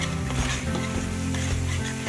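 Onion paste masala fries in a pan for a soyabean biryani, giving a dense, close sizzle with stirring noises throughout.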